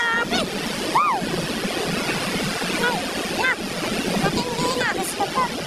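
Typhoon wind and rain roar steadily at landfall in Camarines Norte, Philippines, a loud continuous wash of noise with voices calling out over it.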